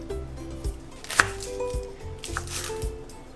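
A kitchen knife chops an onion on a board with a few sharp, separate cuts against a quiet room background.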